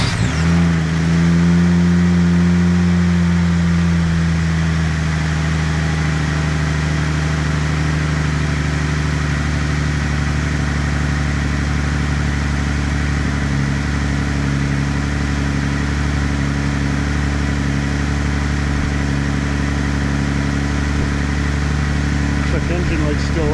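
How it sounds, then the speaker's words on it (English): A car engine idles steadily after a repair for rat damage to its wiring, a continuous low hum with a brief rev near the start, then an even running tone close by. "Engine light's still on, but it's definitely running a lot smoother"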